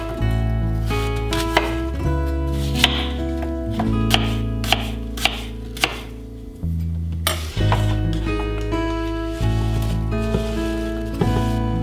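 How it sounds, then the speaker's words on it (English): Knife dicing apples on a cutting board, a steady series of sharp chopping taps over continuous background music. "then I dice up about 5 apples"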